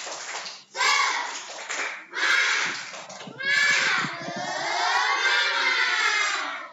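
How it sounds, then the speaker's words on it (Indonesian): Schoolchildren perform a rhythmic spirit clap in class, with patterned clapping mixed into loud, excited group chanting and shouting voices. "Tepuk semangat."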